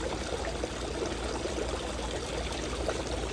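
Water at about 2,000 gallons per hour rushing across a gold sluice mat, a steady close wash of flowing, trickling water with no break.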